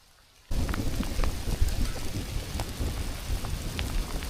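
Heavy rain and hail pound down at a campground, starting abruptly after a brief quiet moment and then continuing as a dense, loud, steady hiss with crackling impacts and low thunder rumble beneath.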